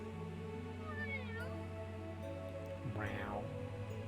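A cat meows in the game Little Witch Nobeta, one rising-and-falling meow near the end, over a sustained musical drone with a faint rain-like hiss beneath.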